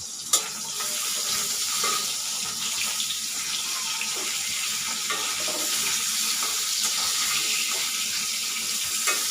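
A fish frying in oil in a pan on a home kitchen stove. It gives a constant loud sizzle and crackle with a faint hiss, steady throughout and unbroken by talk.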